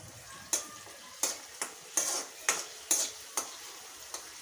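Ingredients for lemon rice are sautéd in a pan with a faint background sizzle, punctuated by about eight sharp, evenly spaced scrapes and taps of a spoon against the pan.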